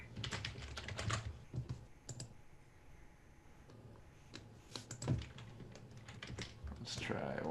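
Someone types login details on a computer keyboard, a quick run of clicky keystrokes in bursts with pauses, close and moderately loud, with voices talking faintly over parts of it.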